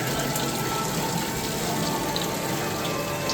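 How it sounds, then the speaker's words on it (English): Water splashing and dripping at an indoor tropical rainforest waterfall in an aquarium, a steady close rushing and pattering wash with no talk. "It's dripping water sounds."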